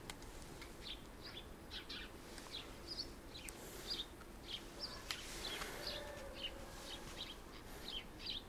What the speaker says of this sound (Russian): Послушайте, как птички уже поют.